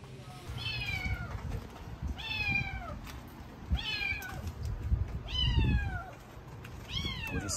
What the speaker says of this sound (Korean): 집 근처에 또 그 고양이가 새끼를 낳아가지고